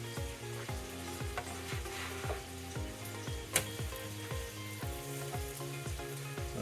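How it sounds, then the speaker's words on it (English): Whole wheat pecan pancakes fry uncovered in a pan, browning on each side, with a soft, steady sizzle and a light patter of crackles throughout, fairly quiet and without talk. "Now it's time to leave the lid off and just let them brown on each side"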